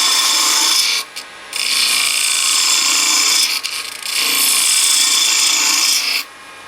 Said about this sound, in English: now I'll go back with my detail gouge. Get me a flat going here.